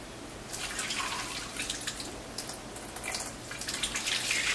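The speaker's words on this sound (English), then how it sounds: "So I'm going to put broth in here until it's full." Bone broth trickles and splashes from a colander into a nearly full bowl, a soft, steady stream of dripping liquid close by with no talk.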